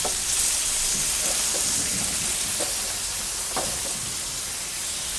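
Onions sizzle in butter in a cast iron pan on a Weber Q barbecue, a steady close hiss and crackle with a few brief louder pops from stirring, no talking.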